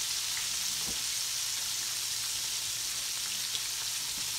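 Chicken gizzards frying in hot grease give off a steady, dense crackling sizzle, even and continuous throughout, with a few faint pops and no voices over it.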